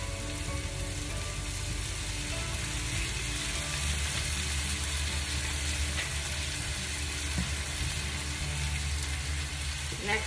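Vinegar hitting a hot pan while cooking vegan Indo-Chinese chilli soya, giving a steady, close, continuous sizzle and frying crackle that holds at an even level throughout, with no talking.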